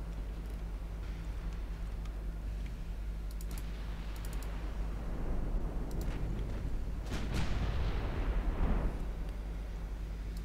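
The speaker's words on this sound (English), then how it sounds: "But Bretagne is firing back at New Mexico." Battleship guns firing in the naval game Ultimate Admiral Dreadnoughts, deep rumbling booms that swell twice over a low constant hum, with faint clicking in the background.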